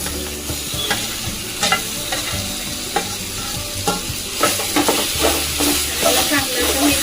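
Mashed roasted eggplant being stirred into fried onion masala in a hot pan, with steady sizzling and repeated scraping, clattering stirs close by, no talking.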